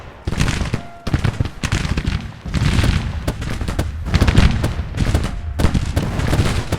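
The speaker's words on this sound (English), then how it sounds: "The enemy has machine guns on us." Gatling machine gun fire in a Civil War battle video game, bursts of rapid rattling shots from close by with short pauses between volleys and booming impacts among them.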